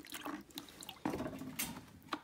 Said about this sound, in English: So here we're still filtering off this